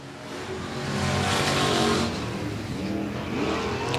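A race car engine roars around the Golden Triangle Raceway Park track, a sustained loud drone that swells and fades as it passes, with faint crowd and track ambience.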